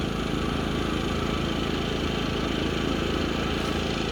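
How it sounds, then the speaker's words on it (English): A Chinese diesel heater runs at night beside a Toyota 4Runner rooftop tent setup, giving a steady droning hum with a low rhythmic pulse, constant and fairly loud, with no talking. "And here goes the trusted Chinese diesel heater."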